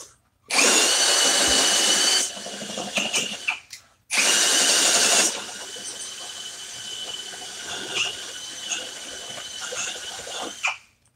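Milwaukee M18 Fuel Gen3 hammer drill and Ryobi 18V One+ drill bore into wood, two loud close bursts of high whining drilling separated by a brief gap, followed by quieter rattling work and handling noise.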